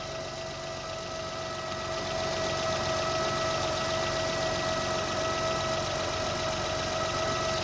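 A 2007 Acura MDX engine idles steadily at close range, a continuous mid-pitched hum with faint tonal whine and slight vibration, growing a little louder after the first couple of seconds and running alone without talk.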